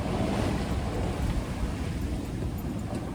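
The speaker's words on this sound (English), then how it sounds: "Combined with the waves and the wind against us" Waves and headwind batter a small sailboat at sea on a solo passage, a dense, continuous roar of rushing water and wind that stays loud and even throughout, with no voices.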